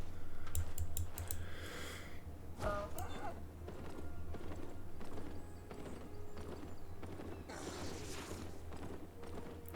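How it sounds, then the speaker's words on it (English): Hooves of a donkey mount clip-clopping in the video game Albion Online: a steady trotting patter under game ambience, mixed with keyboard typing clicks and other interface sounds. "This donkey is the first animal you get."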